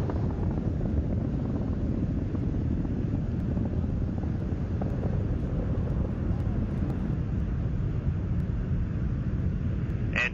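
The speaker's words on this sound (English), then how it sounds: "Endeavour's three engines now back at full throttle." Space Shuttle Endeavour's three main engines during STS-99 launch ascent at full throttle, a steady, dense, distant rumbling roar that continues unbroken throughout.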